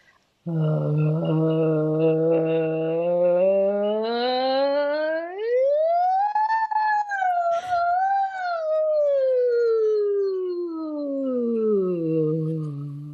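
A sustained human voice imitates a siren, sweeping slowly from low to high and back down in one long, loud, continuous slide.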